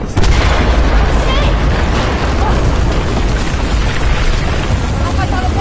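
Explosions in the video game Battlefield 4 come through as loud, dense booming blasts, one straight after another, with a roaring rumble that fills the whole stretch.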